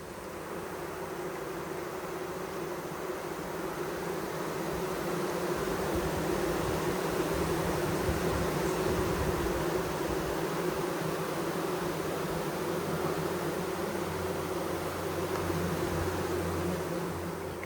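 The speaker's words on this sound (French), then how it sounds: "Ici, on a beaucoup d'abeilles." A dense, steady buzz of many bees swarming close by at an open hive during an inspection, continuous and even throughout with no voices.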